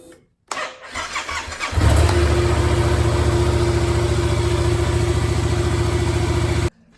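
A Yamaha stunt motorcycle with its tip-over sensor removed cranks over and fires up, then settles into a loud, steady, close idle that runs for about five seconds before cutting off abruptly.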